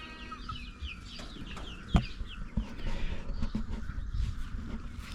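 Chickens on a farm cluck repeatedly at moderate distance, with scattered squawks and chatter over a low outdoor background, with newly hatched chicks kept nearby.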